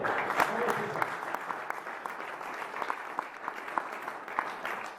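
An audience applauds at a cycling trophy prize ceremony in Plumelin, a moderate, steady patter of clapping with sharper individual claps, a voice speaking over it briefly at the start.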